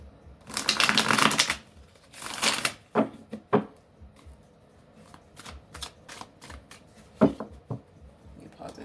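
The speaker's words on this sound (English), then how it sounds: "I shuffled them, but I don't like the way they're flopping." Tarot cards are shuffled by hand in two loud rippling bursts, followed by scattered softer taps and flicks as the deck is handled and squared up, close and clear.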